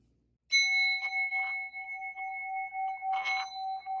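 A brass singing bowl struck with its wooden striker rings with steady sustained tones, a few softer strikes and rubs adding brief overtones; close and alone, with no talk.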